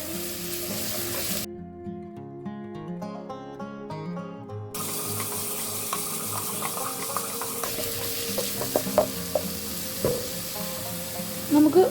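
Diced carrot and mixed vegetables, cut into small cubes for veg samosa filling, sautéing in a pan with a steady close sizzle and occasional stirring clinks.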